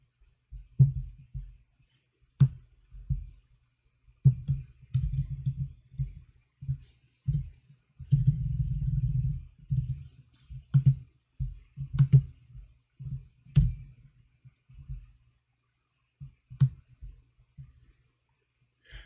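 Someone types on a computer keyboard in uneven bursts of soft clicks and thumps, with short pauses between runs and one longer stretch of rapid keystrokes in the middle.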